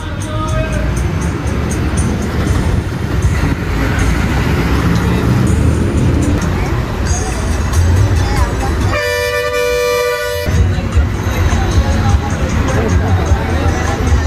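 Loud low engine rumble and road noise from a fast, recklessly driven bus travelling from Mirissa to Ella in Sri Lanka, with a long, multi-tone horn blast midway and voices chattering throughout.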